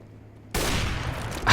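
Gunfire and shotgun blasts in a Counter-Strike: Global Offensive tournament round at Copenhagen Games 2013 burst in after a quiet start, forming a dense, sustained volley that swells louder near the end.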